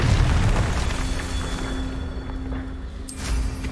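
A Confringo spell explosion in Hogwarts Legacy, heard as a loud, sustained booming roar with a steady hum, then a second burst near the end.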